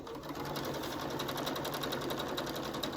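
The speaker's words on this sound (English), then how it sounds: "we're going to sew diagonally across that corner piece" A domestic sewing machine stitches diagonally across a quilt binding corner, a steady close whir with a fast needle pulse and no break.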